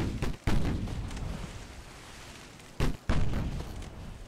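Warship guns fire in the naval game Ultimate Admiral Dreadnoughts: deep, loud booms with long rumbling tails, one at the start, another just after, then a third near the end, with no speech.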